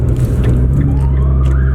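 A police car siren rises and wails behind a car being pulled over on a bridge, sounding fairly faint over a loud, steady engine and road rumble.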